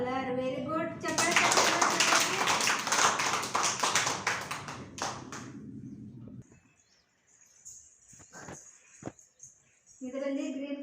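Children at an anganwadi preschool clap their hands in a dense burst of rapid, overlapping claps for about five seconds, then the clapping stops and quieter sounds and voices follow.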